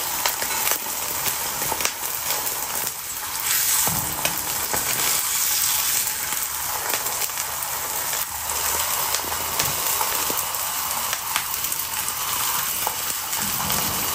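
Wagyu ribeye steak fries in its own rendered fat, giving a steady, close, loud sizzle with crackling pops throughout, alone with no talking.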